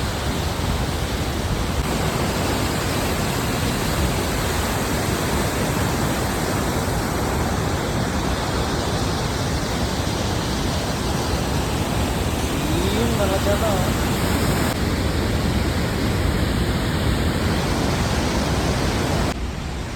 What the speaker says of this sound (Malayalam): എന്നാ ഭീകരതയാണുണ്ടോ ഈ വാട്ടർഫോൾസ്